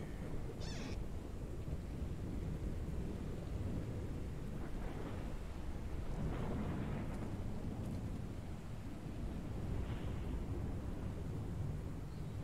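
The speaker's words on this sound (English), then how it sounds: "Why is the thunder constant?" A thunderstorm in the horror video game Pacify: a continuous low rumble of thunder and rain rolls on steadily, with a few faint higher cries rising briefly above the storm, and no talking.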